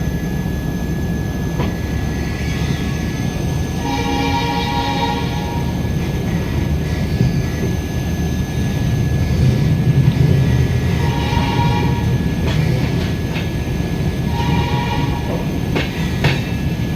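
Vivek Express passenger train hauled by a diesel locomotive, heard from on board as a steady loud rumble of running gear and engine throughout, with faint clanks and intermittent high tones over the roar.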